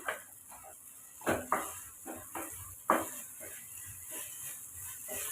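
A spoon stirring semiya tomato khichdi in a cooking pot gives a few scraping knocks against the metal, spaced irregularly over a quiet background with faint low hiss between strokes.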